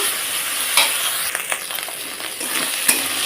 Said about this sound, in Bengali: তো মশলাটা দেখো সুন্দর ভাজা ভাজা হয়ে এসছে তো সাইড দিয়ে তেল থাকছে